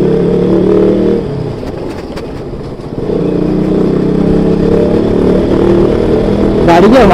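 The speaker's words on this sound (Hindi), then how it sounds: "गाड़ी की आवाज़ तो अच्छे से आ रही है" A motorcycle engine drones loudly and steadily during a ride, pulling hard after a recent service that raised its RPM. The note dips briefly, then surges back up, with wind rumble throughout.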